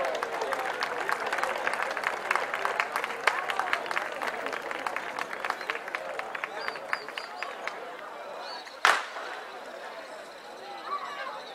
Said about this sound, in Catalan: rebem amb un fort aplaudiment el grup de cantaires